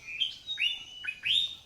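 Several quick, high bird chirps rise and fall in close succession, clear and fairly loud over a faint background, in a children's spring movement class.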